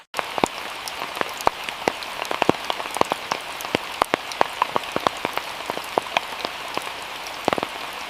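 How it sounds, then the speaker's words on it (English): Steady rain pattering through a forest, with dense close drops striking leaves and surfaces in a continuous patter, scattered louder individual splats standing out, and no voices. "Rain has a way of making the forest feel even more alive."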